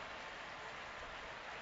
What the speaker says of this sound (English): Crowd giving the injured player a round of applause.